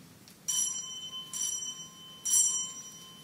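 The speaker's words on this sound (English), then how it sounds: "the bell still rings for me as it does for all who truly believe" A small bell rings three times with bright, sustained tones, each ring fading out before the next, fairly close and clear.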